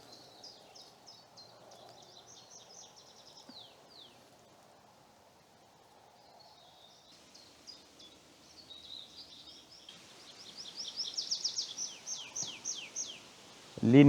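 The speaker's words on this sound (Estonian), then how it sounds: "Linnud laulavad" Birds sing in a wooded area along a hiking trail, with several overlapping trilling and chirping phrases at moderate distance that grow busier and louder toward the end, over faint rustling and a low background murmur.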